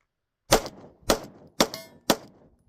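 Glock pistol with stock trigger and red dot, four sharp separate shots spaced about half a second apart, each a loud crack with a short metallic ring, set against silence.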